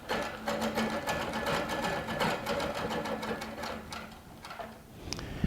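A Baby Lock Regent sewing machine stitches quilting ruler work, its needle running a steady rapid rhythmic chatter that slows and pauses near the end, heard up close and alone.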